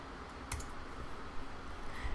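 A few sharp computer keyboard clicks, quiet and close, over a faint steady background hum while typing a word.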